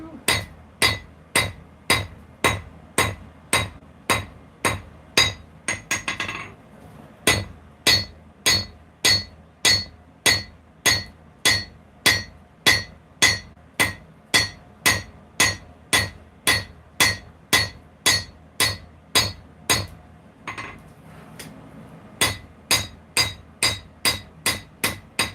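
A hammer strikes a hot knife blank, drawing out the bevel while forging, in a steady, loud, close rhythm of ringing blows with brief pauses near the start and toward the end.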